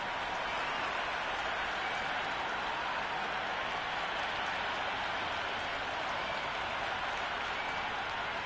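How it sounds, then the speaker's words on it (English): Steady, dense crowd noise from a cricket stadium in the video game Cricket 26 during an India vs New Zealand ODI, a constant wash of cheering and clapping that stays even and fairly loud throughout with no gaps. "already the crowd is up and about"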